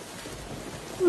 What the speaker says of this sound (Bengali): বৃষ্টির বড় বড় ফোঁটা পড়তে শুরু করেছে, আস্তে আস্তে ঝড়ও শুরু হচ্ছে